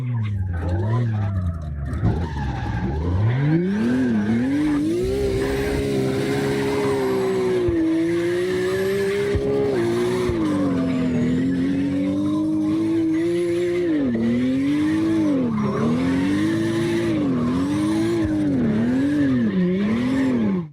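A car slides sideways in CarX Drift Racing Online, its tires squealing in long, continuous wavering howls that rise and fall through repeated transitions, loud and close with engine noise underneath.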